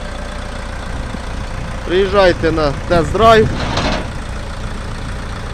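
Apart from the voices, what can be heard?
Jinma 404 tractor engine running, engaging front axle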